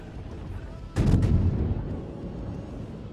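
Heavy booming naval artillery blasts in a video game erupt in a quick burst of two or three thumps, then a rumbling decay fades under a steady background hum.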